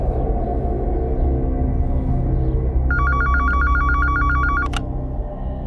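A telephone rings during a call to a hospital, a single clear electronic ring burst lasting under two seconds. It sits above a steady rumbling background and ends with a sharp click.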